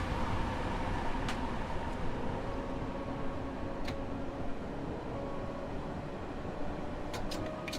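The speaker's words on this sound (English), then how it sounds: "Sounds like another train in the tunnel next to us." In a Train Sim World 2 run on the Harlem Line, another train rumbles through the neighbouring tunnel as a steady, low roar. A few faint metallic clicks break through the wash.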